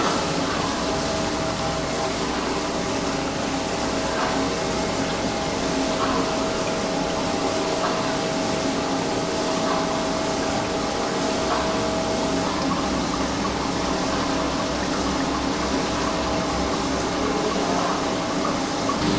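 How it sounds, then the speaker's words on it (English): A high gradient magnetic separator runs while separating manganese ore, a constant loud mechanical hum and rushing drone with steady tones, unchanging throughout. "So actually, this machine is a magnetic separator for weak"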